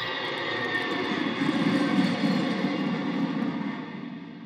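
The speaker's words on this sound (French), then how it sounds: "Et pour s'y rendre, mieux vaut prendre l'avion. Allez, accrochez vos ceintures, décollage imminent." An animated airplane takes off with a steady roaring engine rumble that swells slightly in the middle and then eases, loud and continuous with no talking.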